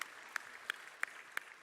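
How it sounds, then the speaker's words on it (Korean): A church congregation claps at a Sunday worship service, five sharp, evenly spaced claps in unison rather than a continuous ovation, close and moderately loud. "하나님께 영광의 박수 올려드립니다."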